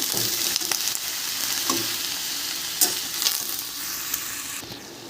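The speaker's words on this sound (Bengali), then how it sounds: "একটু ভাজা ভাজা মতন করে নেব।" Ridge gourd pieces frying in a pan, a continuous close sizzle with occasional stirring scrapes and light knocks, no voices.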